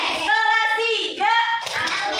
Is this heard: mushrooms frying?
no